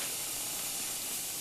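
A pot of pig's feet boils on the stove with garlic and onion, giving a faint, steady hiss and bubbling simmer throughout without any talk.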